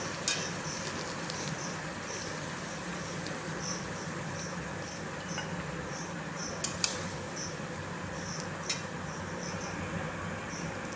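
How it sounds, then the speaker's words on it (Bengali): Spices and potatoes sautéing with a little water for a chicken curry, a continuous soft sizzle and crackle with faint scattered clicks, close and steady throughout without voices. "সামান্য জল দিয়ে ভালো মতো এবার আমি কষিয়ে নেব।"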